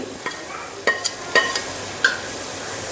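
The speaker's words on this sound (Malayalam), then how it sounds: "ഈ പൊടികളെല്ലാം ആയിട്ട് നമുക്ക് മുപ്പിച്ചെടുക്കാം" Kashmiri chilli powder, meat masala and coriander powder stirred into frying onions for an Idukki-style kappa biryani, with a soft sizzle and several sharp scrapes and clinks of a spoon against the pan.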